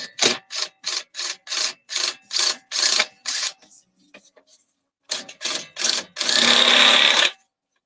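A drill works on a broken-down vehicle in short, rhythmic rasping bursts up close. The bursts repeat about a dozen times, pause, then start again and finish with a longer continuous run.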